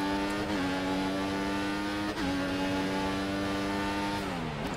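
A Formula 1 race car on soft tyres in the Formula 1 2014 video game, on the Singapore circuit, gives a loud, sustained engine whine that climbs through the gears with sharp pitch drops at each upshift.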